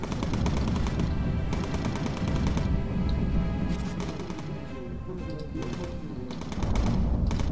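Rapid machine gun fire from the aerial combat game Bomber Crew, loud and dense bursts of shots running almost continuously with brief pauses between volleys.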